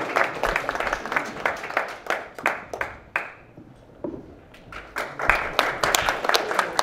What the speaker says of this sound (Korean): 모두 박수로 맞이해 주시기 바랍니다